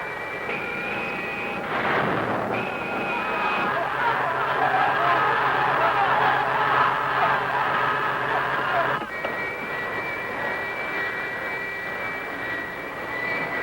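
Spacecraft engine thrust swelling in a 1965 science-fiction film: a steady roaring drone with a high whine that surges louder and denser for several seconds, then drops back to a lighter hum, with no talk.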